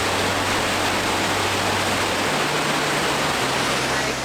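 A waterfall roars in an outdoor setting along a cruise-trip route, a loud, dense and unbroken rush of falling water that fills the whole space evenly, with a low hum underneath and no voices.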